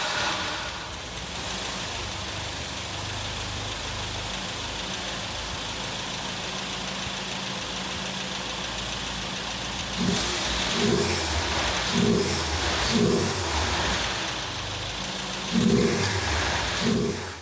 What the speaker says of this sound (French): la Citroën elle tourne de nouveau super bien